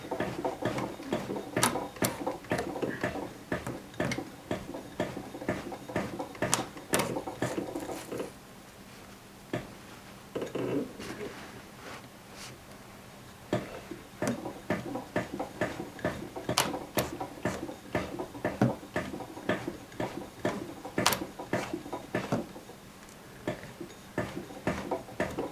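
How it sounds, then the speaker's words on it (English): A hand-cranked sewing machine stitches a thick double-sided flat felt seam on jeans, its needle ticking in uneven runs of close clicks with short pauses between. "I'm gonna hand crank it until I get off of this big double-sided flat felt seam here."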